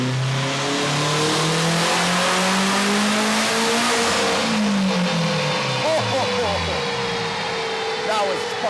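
A turbocharged 8th generation Honda Civic revs hard on a dyno, its engine note climbing steadily, then dropping off into rough, burbling decel with a few pops, loud and close.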